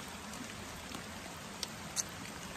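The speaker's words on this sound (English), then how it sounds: "Oh well, it's really raining." Light rain falls outdoors, a faint soft hiss with a couple of distinct drops tapping close by, no voices.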